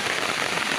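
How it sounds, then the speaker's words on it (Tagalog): Heavy rain pours steadily onto surfaces outdoors, a dense, continuous hiss of countless drops with no voices over it. "Lakas ng ulan."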